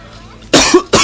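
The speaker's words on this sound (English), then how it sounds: "my throat is sore, and I'm coughing every 5 minutes" A person with a bad cold coughs twice in quick succession, loud and close, two harsh bursts after a brief quiet moment.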